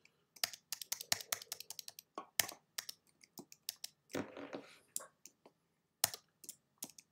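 Computer keyboard keys tapped in short irregular bursts of crisp clicks during Adobe Illustrator shortcut work, close and fairly quiet, with a brief rustle midway and no talk.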